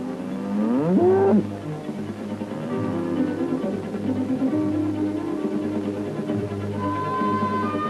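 A Jersey cow lets out a loud, drawn-out moo up close, followed by lower lowing from other cattle in a 75-cow Jersey herd over a steady background.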